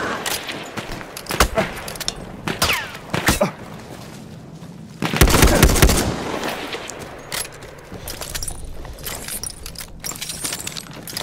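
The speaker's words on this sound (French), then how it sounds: "une mitrailleuse" Machine gun fire in the video game Battlefield 1, loud rapid bursts crackling in several clusters, the densest and heaviest stretch midway through, with scattered shots and game noise between.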